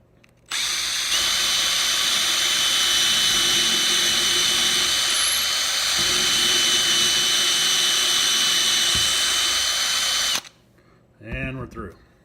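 Power drill drilling a hole on the other side of model railroad track: a loud, sustained high-pitched whine starting after a second and holding for about nine seconds, then stopping, followed by brief male speech.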